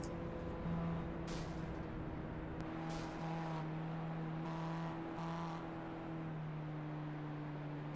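Race cars in the iRacing sim at Mosport in a ChampCar event, bump drafting through the S's at about 68 mph: steady, fairly quiet engine drone with shifting harmonic tones and brief whooshes of cars passing.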